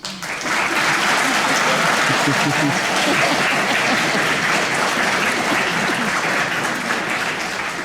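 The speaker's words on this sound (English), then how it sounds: "I want you to thank someone out in the audience by giving them a round of applause" Students on stage at a band honors concert applaud the audience, a dense, steady round of clapping that begins abruptly and holds loud and even throughout, with a faint murmur of voices underneath.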